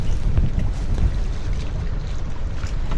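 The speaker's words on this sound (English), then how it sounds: "The wind just shifted." Wind buffets a boat out on the water in chilly Florida weather, a steady loud rushing roar with low gusting rumble across the whole stretch, no voices.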